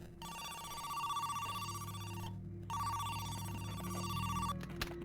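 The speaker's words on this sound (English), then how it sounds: "You're ringing." A phone rings inside a video game, an electronic bell tone in two long bursts separated by a short gap, steady and loud over a low game hum with no talk.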